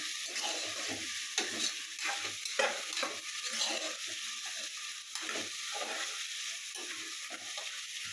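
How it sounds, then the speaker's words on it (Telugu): Black-eyed peas fry in a pan with a constant hiss and sizzle under a repeated rhythmic scraping of stirring, close and moderately loud, with no voices. "అలాగే అలసందలు కూడా వేసుకుందాం. ఇవి కూడా కొంచెం పచ్చి వాసన పోయేదాకా వేయించుకుందాము."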